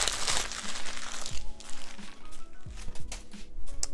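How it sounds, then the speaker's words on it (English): Someone crumples a used sheet of craft paper from sock dye sublimation, giving close, loud crinkling and crunching in irregular bursts for several seconds with a few low thumps. "I'll basically throw this piece of craft paper away."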